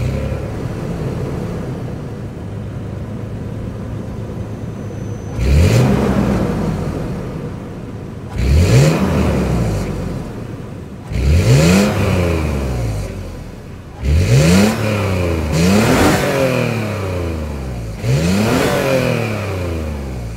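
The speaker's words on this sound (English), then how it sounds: "let's fire up this 4-liter V6 and hear how she sounds" A 2023 Toyota 4Runner TRD Sport with its 4.0-liter V6 sits idling, then is revved several times in a row, each blip rising sharply and falling back to a steady idle, loud and close.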